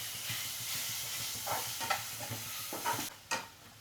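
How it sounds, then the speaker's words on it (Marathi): Green mussel masala sautéed in a pan for a Goan-style recipe: a soft, steady sizzle with scraping stirs and a few sharper clatters of the spoon against the pan, quiet and close. "आता परत परतवून घ्यायचं."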